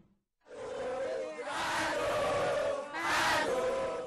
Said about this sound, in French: Des cris, des applaudissements pour dire bonne arrivée au chef de l'État.